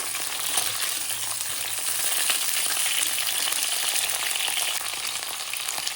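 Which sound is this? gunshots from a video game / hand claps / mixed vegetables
mixed vegetables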